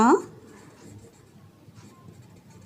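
A pen writes out a maths formula for the volume of a cone, a soft scratchy scribbling under a steady background hum, with a sharper tap at the very start.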